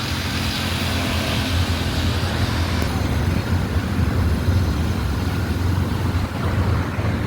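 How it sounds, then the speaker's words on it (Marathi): Steady road traffic on Palm Beach Road, a continuous broadband rumble of passing cars at moderate distance with no talk over it. "फक्त गाड्यांचा आवाज येतो आहे."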